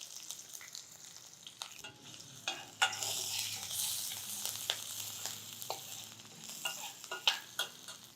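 Curry leaves, chopped green chilies and ginger fry in oil with cumin, giving a soft, quiet sizzle that swells in the middle, broken by light clicks and scrapes of stirring.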